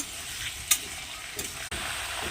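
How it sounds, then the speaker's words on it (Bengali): Potatoes, chopped tomato and ginger-garlic paste sizzle in a frying pan. A spatula scrapes and stirs through the mix, with a couple of sharp clicks against the pan. "এবারে আলু দিয়ে দিলাম, আলুটাকেও দিয়ে একটু নেড়ে নেব"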